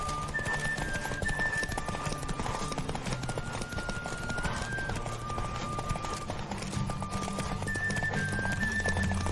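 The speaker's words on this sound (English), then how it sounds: "Don't spare the horse!" A horse gallops in The Witcher 3: Wild Hunt, with quick rhythmic hoofbeats drumming steadily and close for the whole stretch over a constant ambient bed, plus occasional faint whinnies.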